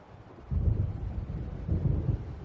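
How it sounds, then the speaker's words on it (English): Low, distant thunder rumbles from an approaching storm over open water in the video game Alan Wake Remastered. There are two soft, deep swells of rumbling, faint and without voices. "It seems there's a storm coming."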